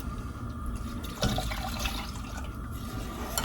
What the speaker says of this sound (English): then we're going to add the remaining 1 3/4 cups of milk.